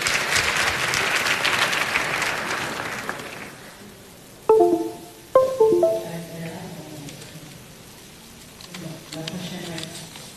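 Dense audience applause fills an indoor hall at the 2023 FECAFOOT Ballon d'Or awards ceremony for about four seconds, then fades as a voice begins speaking over a faint, hushed room.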